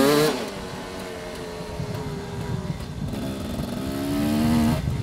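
A two-stroke motorcycle engine revs up and down nearby, its pitch climbing and falling in waves with a rough, buzzing tone.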